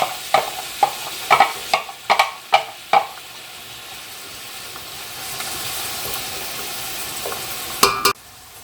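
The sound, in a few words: onions sautéing in a pot for tomato sauce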